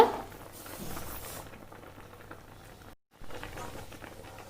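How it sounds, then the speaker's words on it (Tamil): A pot of milk bubbling on the stove with a steady soft patter of boiling liquid, briefly cut to silence midway before the bubbling resumes. "இப்போ நல்லா கொதிக்கட்டும்."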